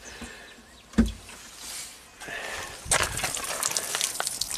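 Water gushing and trickling as it drains out of a flooded hybrid car's trunk, with a sharp knock near the start and a louder splashing pour building through the second half, up close.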